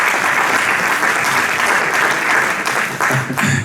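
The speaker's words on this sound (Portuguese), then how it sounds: "Podem aplaudir, podem aplaudir." Loud, sustained audience applause, dense and even clapping from a crowd that carries on throughout before thinning slightly at the very end.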